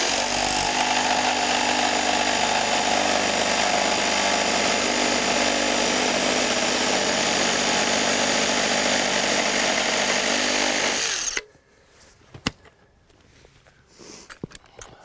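A DeWalt FlexVolt reciprocating saw cuts in straight mode, a loud, continuous buzzing roar held steady for about eleven seconds before stopping abruptly, leaving quiet room sound with a few small knocks.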